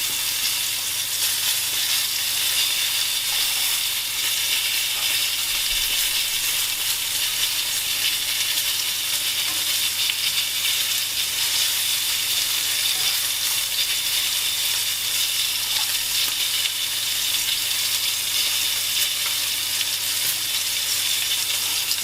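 Duck pieces fry skin side down in a pan with garlic, giving off a steady, close, even sizzle that keeps going without a break and with no talk over it.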